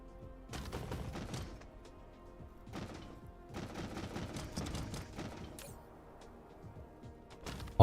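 Missile turrets in the factory game Dyson Sphere Program fire in repeated clattering, rumbling volleys, several bursts broken by brief lulls, moderately loud with no voices.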